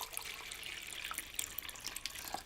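Water pours and trickles into a snake enclosure during cleaning, a continuous close splashing wash with small drips, heard alone.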